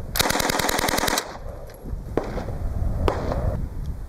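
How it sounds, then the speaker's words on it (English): A MAX-31 A Mark II Suomi drum upper with the standard bolt fires a rapid full-auto burst of about a dozen loud, evenly spaced shots over roughly a second, followed by a quiet stretch broken by a couple of faint clicks and knocks. "This is the MAX-31 Mark II with the standard bolt."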